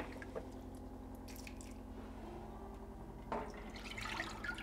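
Water poured from a measuring cup into a large sauce pot in a kitchen, a faint splashing trickle with a brief louder gush partway through.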